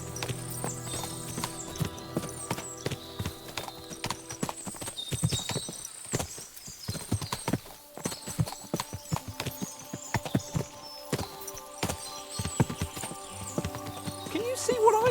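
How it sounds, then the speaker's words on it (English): Horses clip-clop in Kingdom Come: Deliverance 2, a medieval role-playing game, with a steady run of sharp hoof knocks up close and an occasional whinny, heard under talk. "What a lot of horses."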